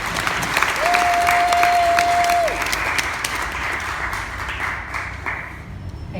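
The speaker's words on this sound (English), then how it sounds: "So let's get a warm round of applause for Aravel" Warm audience applause for a speaker at a talk on crystal skulls and healing: steady, full clapping that tapers slightly toward the end, with a brief whistle-like tone early on.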